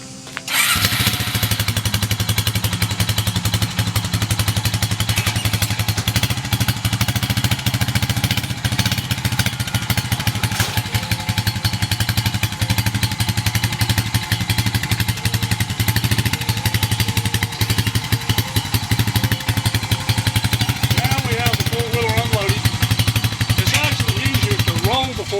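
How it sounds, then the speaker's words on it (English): A four-wheeler engine runs steadily with a throbbing, rattling idle, close and loud, throughout unloading at a deer hunting site, with a voice talking over it. "All right, Noah, get up and unload the four-wheeler."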